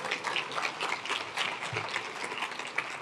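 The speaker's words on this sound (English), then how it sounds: "Give Chairwoman Rapp a round of applause" A conference audience at PLC2025 applauding a chairwoman seated at the front: a continuous, moderately loud wash of many clapping hands through the whole stretch, with no pauses.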